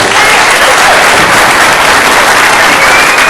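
Steady, loud applause from the crowd at a pool 9-ball championship in Chesapeake, a dense wash of clapping that holds without pause.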